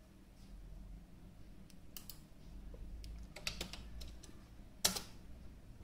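Quiet, close typing on a computer keyboard, irregular soft key clicks scattered over a few seconds with a sharper tap near the end, no talking.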